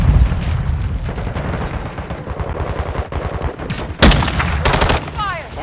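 Dense rapid gunfire and automatic weapon bursts from a multiplayer shooter video game crackle continuously, with a sharp loud burst near the end and faint game voice lines mixed in.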